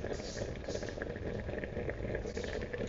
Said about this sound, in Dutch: Het rijst is aan het koken.